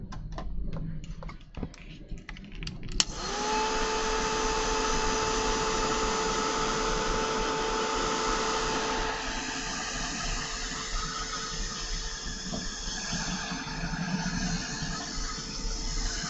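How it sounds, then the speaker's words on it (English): A heat dryer blowing on ink on a craft card, starting after a few seconds of clicking and handling, then a steady loud whir with a constant whine held to the end. "Again, I'm just drying this so it doesn't start bleeding into each other."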